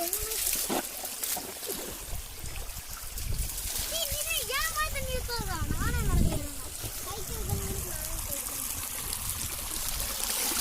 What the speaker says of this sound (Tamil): வாய்க்காலில் தண்ணி போயிட்டு இருக்கிறனால இதை ரொம்ப நேரமாக கழுவிட்டு இருக்கிறாங்க